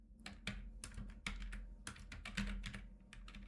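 Rapid keystrokes on a computer keyboard while entering a terminal command, an irregular run of close, crisp clicks with a steady low hum underneath and no talking.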